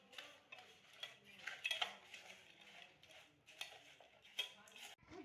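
A bhel mixture with red chutney and tomato sauce is stirred in a bowl, giving soft, faint scraping and clinking of a spoon, irregular and continuous at close range.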